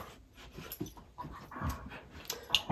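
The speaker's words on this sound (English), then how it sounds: "The dogs are wrestling, as I'm sure you can hear" Dogs wrestling at home, with scuffling, panting breaths and short growly bursts close by, rising to louder thumps and yelps near the end.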